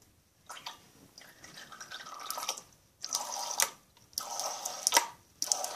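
Liquid falling in bursts of splashy drips and short pours, close and fairly clear, with pauses of quiet between the wet spattering clusters.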